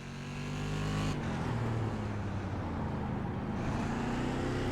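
Race car engines roar steadily in iRacing on a short oval bullring, a loud sustained drone that swells as a car draws alongside and passes close by, with no talk over it.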